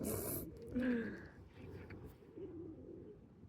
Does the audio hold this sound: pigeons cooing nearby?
yes